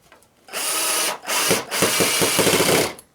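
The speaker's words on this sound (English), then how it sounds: "now we'll go ahead and insert the wood screws that I use. I'm using 1-inch flat heads with Phillips." A power drill drives 1-inch flat-head Phillips wood screws into the wooden roadbed of a model railroad helix. Loud, close whirring comes in three bursts separated by brief pauses, and the last burst pulses as the screw seats.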